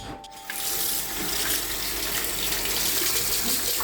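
Tap water runs steadily into a sink in a restaurant staff toilet, a continuous close splashing hiss that starts after a brief quieter moment and holds at an even level throughout.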